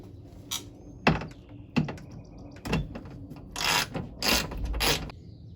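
Ten-millimetre bolts being loosened from a car's power window regulator, giving a few sharp metallic clicks and ratcheting bursts spaced a second or so apart, close up over quiet background.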